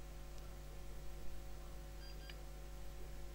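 Two short, faint electronic beeps from a Robonova-1 humanoid robot sound over a steady mechanical hum, one early and one near the end.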